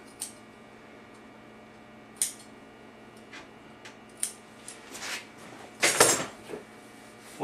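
Scissors snip into upholstery fabric on a chair arm to make a small V cut, giving a few faint, sparse, close clicks and snips amid quiet room tone.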